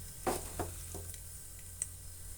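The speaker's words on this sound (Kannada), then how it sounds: "ಎಣ್ಣೆ ಕಾಯ್ತಿದ್ದಾಗೆ ಸಾಸಿವೆ ಜೀರಿಗೆ ಹಾಕ್ತಾಯಿದ್ದೀನಿ. ಅದು ಚೆನ್ನಾಗಿ ಸಿಡಿಬೇಕು ಚಟಪಟ ಅಂತ." Mustard seeds and cumin splutter in hot oil for a Kannada-style vegetable sagu: a few sharp, separate pops and crackles over a quiet, steady background, fairly close.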